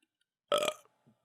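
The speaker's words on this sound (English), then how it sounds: "hence why I burped to give it a compliment" A single loud burp after drinking Mike's Harder Blood Orange hard beverage, one short guttural belch lasting a fraction of a second, heard alone in an otherwise quiet room.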